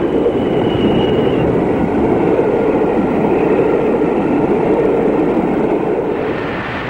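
British Railways Class 40 diesel locomotive D200 working the Sou'wester between Carlisle and Ayr, heading outbound past Eastriggs in May 1984: a loud, steady engine drone and rumble that holds for the whole stretch, then eases slightly near the end.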